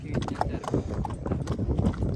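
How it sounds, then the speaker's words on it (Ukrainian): A mare's hooves clip-clop in a steady, close walking rhythm while people talk over it. "Яка е, гарна кобилка."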